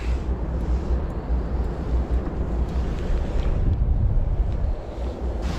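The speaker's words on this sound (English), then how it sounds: "Pretty windy day out here." Strong wind buffets the microphone with low, uneven rumbling gusts that swell and ease, with faint water lapping underneath, on the Mississippi River below a dam.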